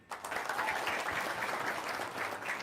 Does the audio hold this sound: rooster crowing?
no